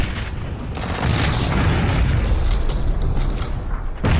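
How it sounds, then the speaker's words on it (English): A UAZ vehicle blowing up in PUBG, a loud booming explosion followed by a sustained rumbling roar that fades out, with no talking. "Just spam smokes and nades. Blow up that UAZ."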